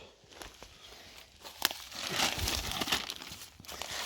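A plastic bag crinkles and rustles close by while young mushrooms are picked in a forest in July, with scattered crackles and soft handling noises and no talking.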